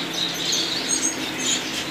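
Gouldian finch chicks give a steady stream of thin, high chirps and twitters, faint and continuous, with a soft hiss underneath and no voices.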